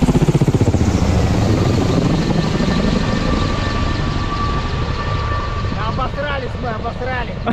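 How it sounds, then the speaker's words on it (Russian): A helicopter flies overhead near the Sredny and Rybachy peninsulas in the Murmansk region, its loud rhythmic rotor thumping strongest at first, then easing into a broad engine roar while people talk near the end. "Да, вертолеты летают, все серьезно здесь у нас."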